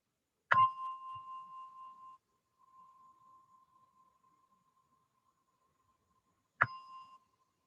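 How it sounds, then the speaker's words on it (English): A meditation gong is struck twice in a quiet room, the first stroke ringing out with a long, pure, fading tone, then a second strike some six seconds later that rings briefly. "as you hear the gong slowly coming out from meditation"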